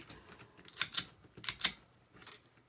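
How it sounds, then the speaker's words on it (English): A few sharp snips from cutting zip ties off a farmhouse sunflower wreath, quiet close clicks in two pairs with a last faint snip, no talk. "so I'll cut those zip ties off."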